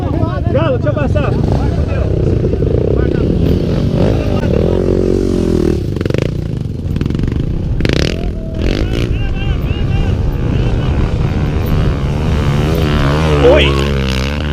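Tornado 319cc trail motorcycle riding along an off-road trail, its engine droning steadily and loudly throughout with rattling and scraping, while people talk and shout over it.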